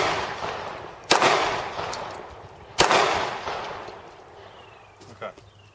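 Two sharp handgun shots from a .40 caliber pistol ring out about two seconds apart, each with a loud crack and a long decaying echo, followed by faint fainter sounds at an outdoor range.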